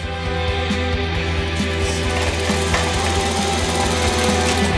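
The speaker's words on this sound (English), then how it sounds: "let's go ahead and sew this up here a quarter of an inch" A sewing machine runs steadily while stitching a quarter-inch seam on a skinny tie, producing a close, continuous mechanical whir with a rapid rhythmic needle beat throughout.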